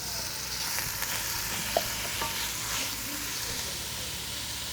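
Pieces of cut chuck roast beef sear steadily in a hot pot, giving a continuous close sizzle and hiss with a few faint clinks and stirring sounds, no talking.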